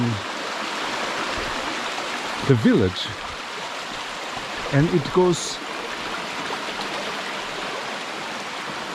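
Steady broadband rush of a stream flowing through a Portuguese village, running behind houses, continuous and close throughout, with someone talking briefly over it twice.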